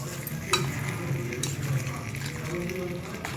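Cucumber chutney being stirred as it fries in a pan, with a continuous close sizzle and soft scraping from the spoon, a low voice murmuring faintly underneath.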